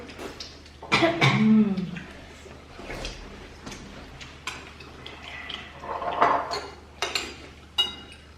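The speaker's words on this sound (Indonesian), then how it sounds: "tapi mereka lagi batuk" A few short coughs from a child with a cold, the first burst the loudest, followed by quieter sporadic coughs and faint clinks in a quiet room.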